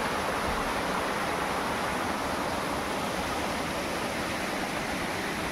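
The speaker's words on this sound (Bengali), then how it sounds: "মাঝঝাড়ের ভেতরে ঝর্ণা" A waterfall inside a bamboo grove on a hillside gives a dense, steady rush of falling water. It is unbroken and moderately loud throughout, with no voices.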